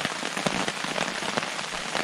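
Heavy rain drumming steadily on a tent during wild camping in bad UK weather, a dense, close hiss of drops with no let-up and no voices.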